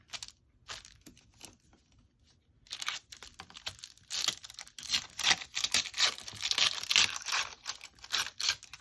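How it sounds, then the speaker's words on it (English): Paper torn by hand for a vintage Christmas journal page, heard as close, quiet ripping and crinkling bursts that start after a near-silent opening and grow busier and louder. "I'm probably going to go in with my fingers and just tear that a little bit"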